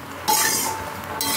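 A lid clatters onto a pot during home cooking of a Bengali kul and chalta pickle, a brief metallic clink followed by a sustained bright rattle and hiss of the cookware, close and fairly loud, with no talk.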